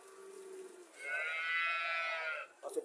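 A cow moos once in a long, drawn-out call at a Comilla cattle market, loud and close, with faint crowd murmur and a brief clatter afterward.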